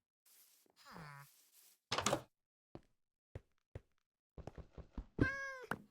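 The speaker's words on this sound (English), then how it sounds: "There's a cat." A Minecraft cat meows several times. The meows are separated by soft clicks and taps, and the last is the loudest, a drawn-out wail. Speech is faint and scattered.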